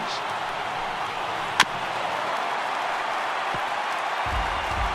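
A crowd of over 39,000 at an MLB baseball stadium cheers and applauds on its feet, a steady broad roar heard from a distance with one sharp crack partway through.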